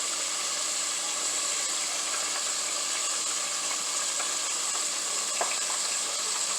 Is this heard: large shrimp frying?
yes